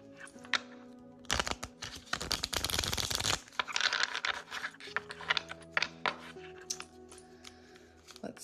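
Tarot cards being shuffled in quick riffling bursts, with a loud flurry in the middle and lighter taps and shuffles afterward.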